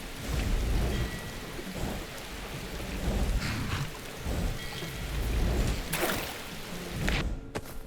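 Heavy rain pours down in a video game world, a dense close hiss of drops broken by deep rolling thunder rumbles and a few sharp cracks, with no talking.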